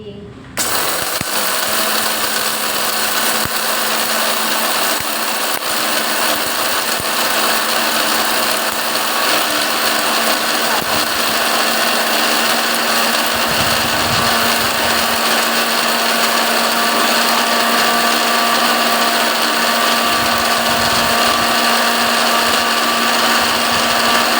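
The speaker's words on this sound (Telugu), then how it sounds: "చూడండి మిక్సీ" An electric mixer grinder whirs loudly and continuously for the whole stretch after a brief start, steady high-pitched motor drone, close up.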